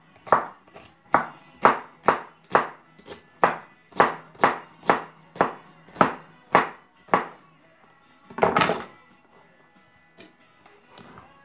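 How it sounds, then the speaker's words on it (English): Knife chopping celery into thin slices on a cutting board: a steady run of about a dozen crisp, even chops, then a louder scrape and a few scattered taps near the end, close and clear with no talking. "Your celery, just cut it up. Just little,"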